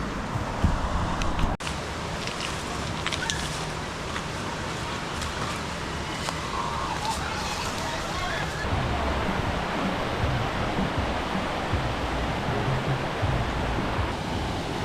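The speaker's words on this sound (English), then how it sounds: "See the waterfall in there." Waterfall at Turner Falls Park, Oklahoma: a steady broadband rush of falling water fills the background at moderate distance, with brief handling bumps early and a person talking faintly over it.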